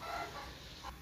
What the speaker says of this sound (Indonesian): jadi itu bunyi ayam itu di bagian belakang saya